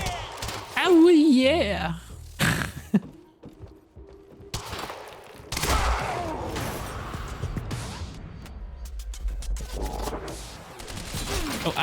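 Sniper gunfire rings out in a Quantum Break firefight, sharp sporadic cracks mixed with bursts of other shooting, impacts and clatter, with a voice speaking briefly amid the action.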